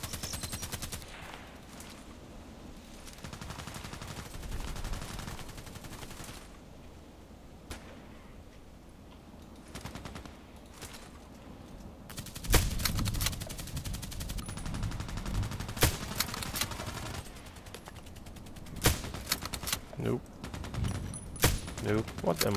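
Gunfire from a SCAR-L rifle in a video game, scattered single shots and short bursts that grow louder and denser toward the end, over a busy background of game sound.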